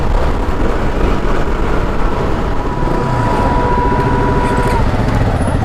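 A new KTM motorcycle engine drones loud and steady while riding, mixed with heavy rushing wind noise and no clear voices.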